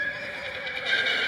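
A horse in a stable or paddock gives a loud, sustained neigh with a wavering whinny, close and clear with no talk over it.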